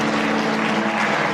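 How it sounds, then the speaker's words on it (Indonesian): A church congregation breaks into lively applause during a worship service, a dense, loud, continuous roar of clapping with a low sustained hum beneath. "Yang merasakan hadirat Tuhan kasih tepuk tangan yang meriah."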